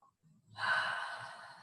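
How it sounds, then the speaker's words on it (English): One long, slow, deep breath is drawn in through the nose over cupped hands scented with aromatic oils. The breath is close and airy, swelling and then slowly fading after a brief quiet start. "I'm just taking a few nice, long, slow, deep breaths."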